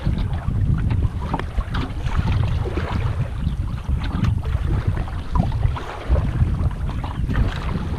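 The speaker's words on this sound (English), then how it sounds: "Got a little bit of a headwind" Steady wind buffeting the microphone while kayaking into a headwind around the back side of Hope Island, a continuous low rushing roar with water sounds beneath, no talking.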